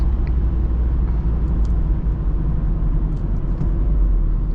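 A 2003 Volvo S40 with the 1.9-liter turbo engine heard from inside while driving, a loud, steady low engine and road rumble that holds constant throughout.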